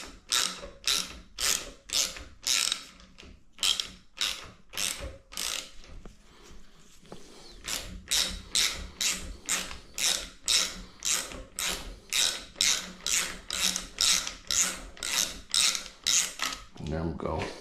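A 10mm ratcheting wrench unscrewing the air side of a Fox 38 bike fork gives rapid, regular metallic ratchet clicks in repeated bursts, loud and close, with a short pause partway through.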